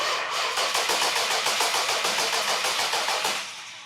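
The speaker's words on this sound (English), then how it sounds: "we just start by cranking the engine over and finding out if it'll really turn over" A Hemi V8 in a Plymouth Hemi Cuda cranks over on the starter without firing, a loud, fast, even chugging rhythm that holds steady for several seconds and then starts to fade.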